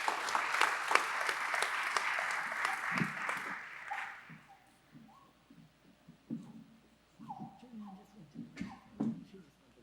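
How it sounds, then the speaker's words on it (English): Audience applause at a reparations forum, loud and dense at first, then fading out after about four seconds into scattered claps and faint murmuring voices. "Please give up another round of applause for Jeffrey Robinson."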